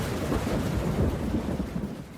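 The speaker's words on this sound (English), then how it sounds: "Rain!" Steady, heavy rain pours across the whole stretch with deep rolling thunder rumbling underneath. The sound stays loud and dense throughout, with no voices.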